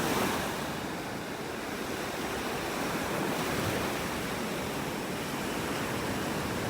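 Steady roar of ocean surf washing onto a beach in North Naples, Florida, a continuous broadband wash with gentle swells, close and moderately loud, with no voices.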